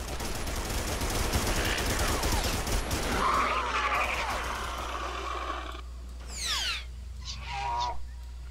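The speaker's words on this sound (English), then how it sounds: "Anti-aircraft!" Anti-aircraft guns in the dinosaur shooter Primal Carnage pour out a dense, rapid barrage that rumbles for several seconds, then thins out into scattered bursts as high, honking creature cries ring over the top.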